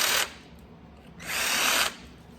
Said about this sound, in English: deburr it